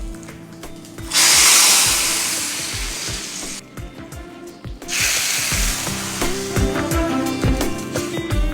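Curry leaf tempering poured into amla rasam, hissing and sizzling in two loud bursts with steady frying crackle and clinks of utensils between them.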